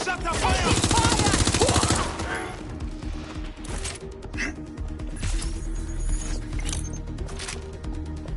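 Gunfire in the video game Watch Dogs Legion: a loud burst of rapid automatic fire at the start, followed by scattered shots and combat noise, with indistinct voices mixed in.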